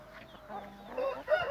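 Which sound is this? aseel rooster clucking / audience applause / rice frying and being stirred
aseel rooster clucking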